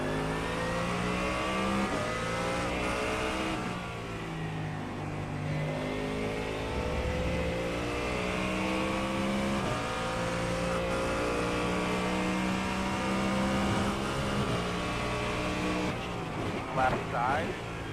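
A race car engine on a racetrack screams at high revs from close range, its pitch climbing and falling through gear changes in a steady, unbroken drone that lasts throughout.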